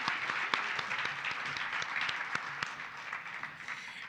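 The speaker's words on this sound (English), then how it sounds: "let's give a round of applause for Miss Two Flamingos herself" Steady audience applause at a live community crowdfunding event, a dense patter of many hands with a few sharper individual claps standing out, moderately distant.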